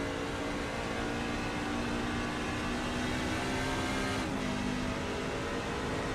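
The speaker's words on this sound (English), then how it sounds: "Let's take a ride on board real quick and see if we can hear anything different about this engine." Truck engine in a racing video game heard from the onboard view, a steady droning hum with constant tone and no talk over it, holding even throughout with a slight shift near the end.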